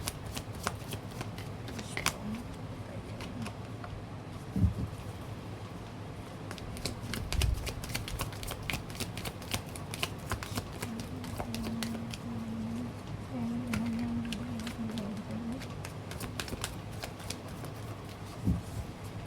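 Tarot-style cards shuffled repeatedly for a reading, producing steady riffling and slapping bursts with a few louder knocks, close and continuous over a quiet room hum with no speech.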